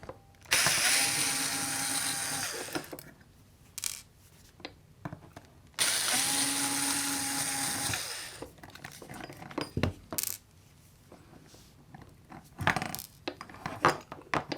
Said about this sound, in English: I think it's about time to unscrew the transformer.